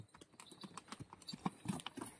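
Bullocks' hooves walking along a village road, a faint, irregular series of soft clopping steps at a distance, with a bit of low background noise and no talking.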